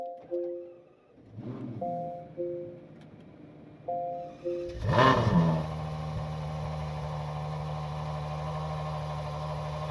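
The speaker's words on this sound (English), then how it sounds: "Hearing that NA V12 come to life" Electronic chimes sound a few times, then the naturally aspirated V12 of a 2026 Ferrari 12Cilindri cranks and roars to life with a loud rev before settling into a steady, deep idle, heard from inside the cabin.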